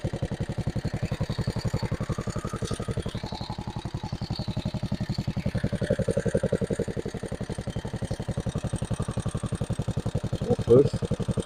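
An engine runs at a steady idle while warming up on a pineapple farm, a fast even pulsing chug throughout, close and constant, with a brief louder clatter near the end.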